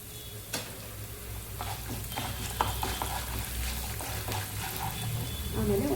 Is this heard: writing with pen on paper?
no